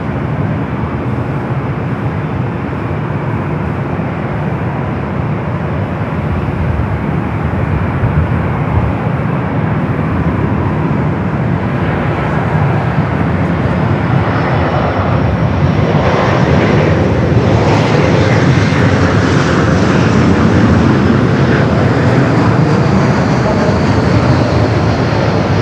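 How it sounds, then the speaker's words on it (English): An Air Canada Airbus A220-300 airliner at Los Angeles International Airport makes a long, loud, steady jet roar lasting the whole stretch, with engine whine rising later on, heard alone without talk. "It's the Airbus A220-300 Air Canada up next."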